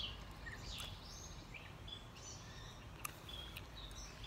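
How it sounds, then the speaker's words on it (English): Birds sing outdoors, their faint, scattered chirps and short calls drifting in and out over a steady low background rumble, with no one talking. "Y'all hear the birds and all that stuff."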